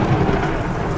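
Heavy rain pours down with rumbling thunder on a very cold day, a dense, steady roar that fills the whole stretch without a break.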